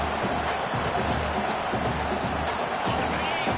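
A loud stadium crowd in an NCAA football video game roars with a steady wash of cheering and whoops from a large mass of fans, heard close and constant throughout.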